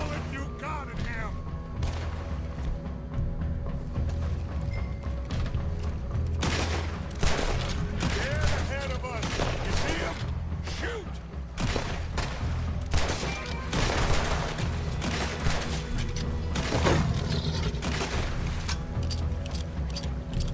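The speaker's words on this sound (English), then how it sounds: "Put every bullet you got in him." Sustained video game gunfire from many weapons, with dense overlapping shots and bursts that go on without a break, backed by booms and mechanical clatter throughout.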